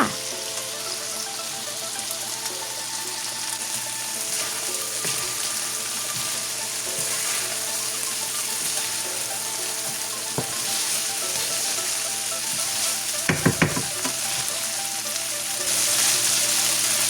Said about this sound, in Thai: ตอนนี้เราคั่วราบอยู่นะเพื่อนเพื่อน